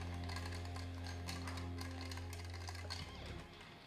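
A vodka cranberry cosmo with squeezed orange is stirred in a metal vessel, giving a steady run of quick metallic clinks and scrapes close by over a constant low hum, which fades near the end.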